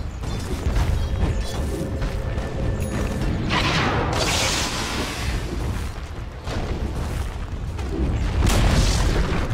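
Video game tower in Dota 2 being attacked and collapsing, with dense mechanical clanks, grinding and booming impacts in continuous loud bursts.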